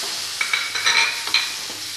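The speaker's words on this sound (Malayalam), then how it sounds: "ഇനി ഈ തക്കാളി അരിഞ്ഞതൊക്കെ വഴറ്റാം." Chopped tomatoes being sautéed in a pan for a curry, giving a steady soft sizzle with a few sharp stirring scrapes and clinks, close up with no voices.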